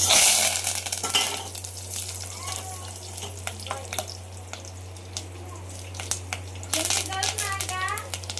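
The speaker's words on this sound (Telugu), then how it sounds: "మనం అయితే పులిహోరలోకి తాలింపు వేసేసుకున్నాం" A pulihora tempering sizzles in hot oil with a moderate frying hiss, some clinks and stirring, over a steady low hum while people talk nearby.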